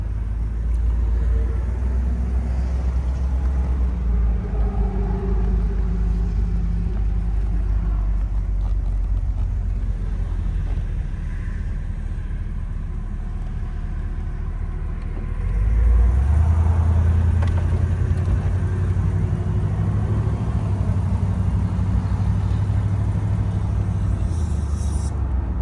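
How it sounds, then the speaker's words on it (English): A 1968 Oldsmobile 442 convertible with a 400 V8 on a test drive along Kentucky roads gives a steady, close, low engine rumble that swells louder and deeper midway as it accelerates, with no talking. "we're going to take this 1968 Oldsmobile 442 Convertible for a test drive and see how it does"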